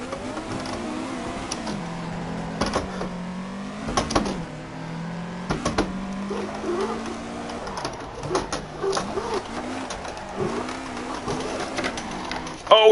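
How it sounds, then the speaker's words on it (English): Mazda RX-7 rotary engine drifting in Assetto Corsa: a buzzing, revving engine drone that rises and falls in pitch through repeated throttle blips and gear changes, steady and close, with no talking. "The RX-7 sounds so dirty when it's drifting."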